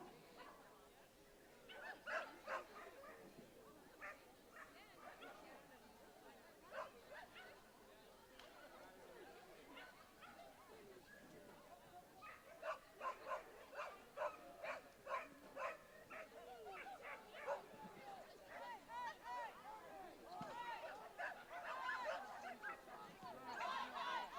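Dogs bark and yip intermittently at an agility competition, mixed with crowd chatter and a commentator's voice, fairly faint and distant throughout.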